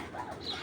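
Giribaz pigeons give a soft, low cooing close by, steady and continuous through the short moment with no talk over it.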